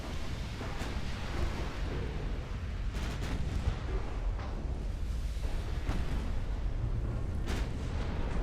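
Naval gunfire in the Ultimate Admiral Dreadnoughts warship game, a steady low rumble of battle with several distant booming impacts spread across the stretch, no talking.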